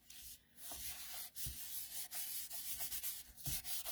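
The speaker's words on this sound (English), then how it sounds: "Hold one side and burnish the other so it doesn't move, because that white glue will move." Paper leaves glued down with white glue are burnished by hand. Steady, close rubbing strokes scrape back and forth almost without pause, with no voices.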